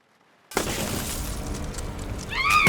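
Special-effects glass, not sugar glass, breaking in a short film: silence, then a sudden loud crash with a sustained burst of shattering debris, ending in a high piercing scream-like cry.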